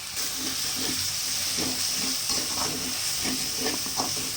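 Curry leaves sautéing in oil in a pan for South Indian egg curry, a steady bright sizzle and hiss with soft, irregular stirring scrapes underneath, close and even throughout.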